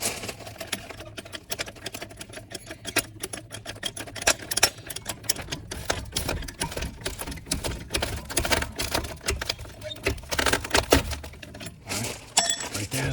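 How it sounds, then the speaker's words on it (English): A mechanical jack repeatedly clicks and ratchets while lifting a 2009-2023 Nissan Maxima during a non-sport shock absorber replacement, producing a steady stream of close, sharp metallic ticks and clinks with no talking. "I'm gonna jack it up from right here with my other jack"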